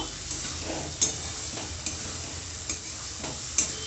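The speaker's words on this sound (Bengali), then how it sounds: "এবার আমি এর মধ্যে দেব ক্যাপসিকামগুলোকে আর টমেটোগুলোকে। ওটা কষে নেব।" Capsicum and tomatoes are sautéed in a pan, giving a steady close sizzle broken by a few sharp ticks from the spatula stirring.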